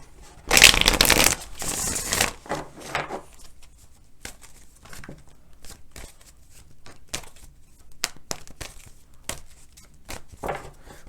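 A tarot deck is shuffled up close, a dense riffling burst at the start followed by a long run of quick, crisp card flicks and taps, with no one speaking.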